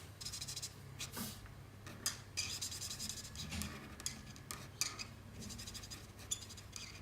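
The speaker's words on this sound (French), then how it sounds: "Et le reste du coup je colorie avec la couleur Potalo Brown." A brown colouring pencil scratches and rubs across paper while a drawing is coloured, making soft close-up strokes in irregular bursts with brief pauses between them.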